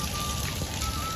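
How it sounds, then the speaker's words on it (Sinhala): Heavy rain pours down outside a house, making a steady, even hiss with no breaks. It sounds faint and continuous, with no voices. "අද නම් ගොඩක් ලොකු වැස්සක්."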